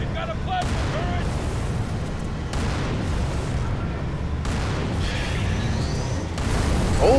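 In the video game Halo, a Phantom dropship is destroyed by a tank, heard as a continuous rumbling roar of explosions and heavy gunfire, with voices speaking over the din.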